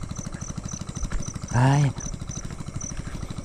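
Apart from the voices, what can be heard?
engine running, fuel tank filled to last overnight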